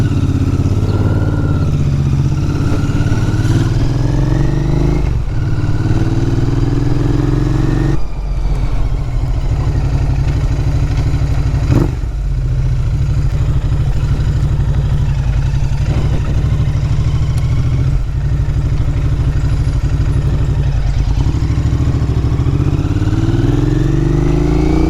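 A 2021 Royal Enfield Interceptor 650 motorcycle engine runs steadily and close by, a loud continuous throb with a few blips and rev changes and some gear shifts, no talking.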